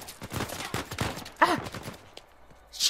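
Scattered gunshots in Uncharted 4, a handful of sharp cracks spaced irregularly at moderate distance, with one louder nearby impact partway through and quieter stretches between.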